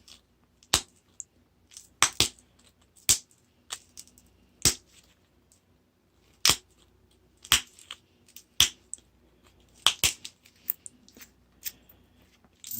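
A stone flake is knapped into a thin point by hand. Sharp, crisp clicks and snaps ring out one at a time, irregularly spaced with short pauses, close and clear against a near-silent background, and no one speaks.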